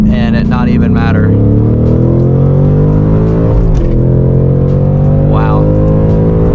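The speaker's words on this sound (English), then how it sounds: "I'm gonna test out the no-lift shift that this car comes with." A 2022 Ford Mustang Mach 1 with a 6-speed Tremec manual accelerating hard, its engine climbing in pitch, dipping briefly at a no-lift shift and then pulling again, loud and close from inside the car, with voices speaking over it.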